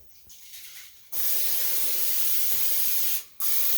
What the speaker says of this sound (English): I've got butter baking spray. So why I'm stepping over here is I always spray this on my pans